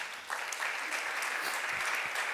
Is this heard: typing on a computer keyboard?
no